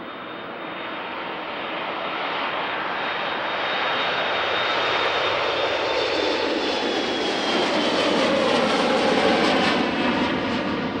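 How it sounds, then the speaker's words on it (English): A KLM Embraer jet taking off from runway 36L at Schiphol Airport, its engine roar building from a steady whine into a loud, broad rumble that swells and stays heavy as the aircraft passes. "Next up is KLM Embraer"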